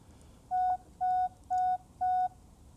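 A Navimow i105 robot lawn mower sounds four evenly spaced electronic beeps, clear, steady tones of equal length over faint background noise, signalling before its blades start.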